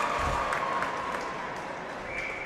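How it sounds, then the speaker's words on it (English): A crowd cheers and applauds at a college hockey game in an arena, a steady roar of sustained noise that fills the space without break. "Now he fires up the crowd."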